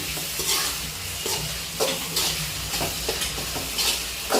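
A spoon scrapes and stirs food around a sizzling pan after a teaspoon of poppy seeds goes in, steady frying hiss underneath with periodic scraping strokes. No talking.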